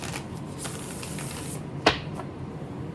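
Tarot cards are shuffled with a papery riffling rustle, ending in a sharp snap as the deck comes together, then a few lighter flicks.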